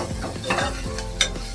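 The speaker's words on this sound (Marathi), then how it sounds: "हे ढवळून घेते" Onion and Malvani masala frying in a pan are stirred with a spoon, producing a close, continuous sizzle with rhythmic scraping strokes and a brief metallic clink, with no talking.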